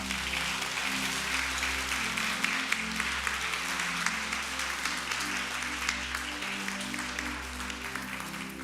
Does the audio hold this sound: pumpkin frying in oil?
no